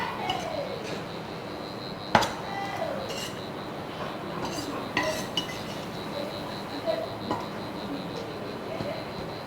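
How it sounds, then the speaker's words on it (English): A spoon stirring ofe owere soup in a metal pot, with repeated scraping swirls and a few sharp clinks against the pot's side, close by and moderately loud, without talk. "So we stir very well, and then we leave it for a few minutes after stirring for everything to simmer"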